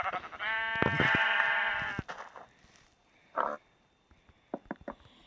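Several Minecraft sheep bleats, loud and close, with a long harmonic bleat in the first two seconds followed by a burst of shorter calls and clicks.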